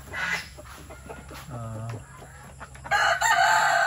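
A hen clucks in short repeated bursts amid farmyard background noise, with louder rustling and scraping toward the end.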